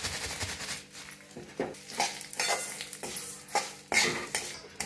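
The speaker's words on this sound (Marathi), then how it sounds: "तीळ बी भाजून घेऊया।" Sesame seeds are roasted in oil and stirred in a pan for homemade red chilli masala, with repeated scraping and clinking of a spoon against metal in irregular strokes, close and fairly quiet.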